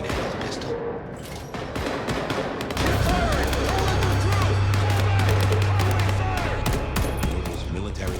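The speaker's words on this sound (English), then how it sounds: "Gunfire?" Gunfire in the video game Vampire: The Masquerade – Bloodlines 2, a rolling barrage of shots and deep rumbling blasts that thickens midway, with a low sustained drone underneath.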